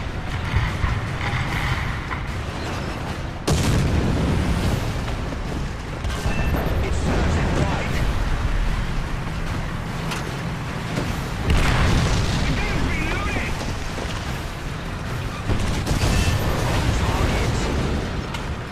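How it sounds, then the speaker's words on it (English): A War Thunder ground forces tank battle with a KV-1 rolls on as a continuous heavy rumble, with deep booms and mechanical clanks striking now and then, loud throughout. "The enemy is preparing for artillery barrage."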